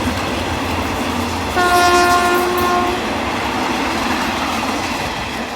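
A train with a GEA 4545 locomotive passes on Thailand's southern railway line. Steady loud rumble of wheels on track, with a sustained horn blast of about a second and a half in the middle.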